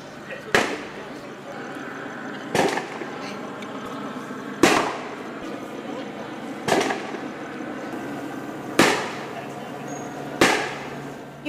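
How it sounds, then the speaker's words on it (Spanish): Police officers fire gunshots in news footage from a Beverly Grove incident, heard as six sharp, loud reports spaced about two seconds apart over a constant background hum with talk underneath. "hace algunos minutos acaban de disparar los oficiales"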